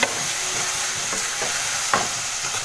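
Seeds and dried shrimp (jawla) going into onion sautéed in a pan, giving a steady close sizzle and frying hiss with a few light stirring scrapes and no voices.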